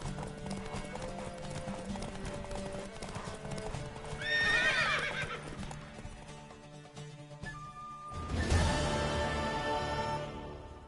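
Video game horse: hooves clip-clop in a fast, steady gallop rhythm while a horse whinnies twice, loud and close, over a busy background.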